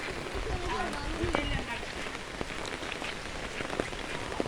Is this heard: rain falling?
yes